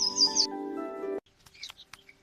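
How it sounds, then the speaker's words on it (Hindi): Small birds perched at a house window chirping: a bright, high trill over a sustained musical tone, then a scatter of short, quick tweets after the music cuts off. "दोनों परिंदों ने खुशी से चहचहाया कर लगाकर जैसे शुक्रिया अदा किया।"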